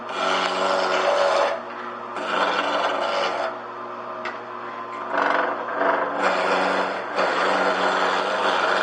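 A roughing gouge cuts wood on a lathe in repeated rasping passes, each a steady loud scrape with short dips between strokes, close and without talk.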